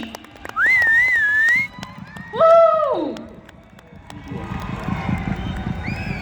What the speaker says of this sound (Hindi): तालियों के साथ सीटियां भी चलेगी।